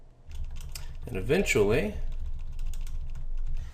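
Repeated key presses on a computer keyboard, soft, closely spaced clicks running throughout, with someone speaking briefly over them.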